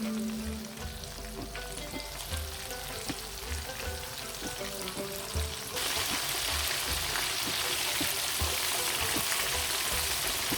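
Chicken cheese fingers fry in oil over a medium gas flame, giving a dense, continuous sizzle that sits close and loud and grows brighter and fuller partway through, with faint pops and no voices.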